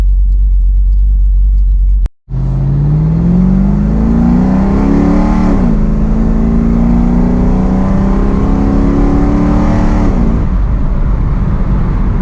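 A Dodge Dakota R/T engine idles loudly up close, its tone sagging low and then climbing back as the idle dips and recovers twice, under a steady rumble with no talk.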